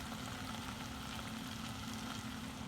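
Vegetables, onion and green, orange and yellow bell peppers, added to a hot pan alongside pork loin, sizzling in a steady, soft frying hiss that runs unbroken with no talking.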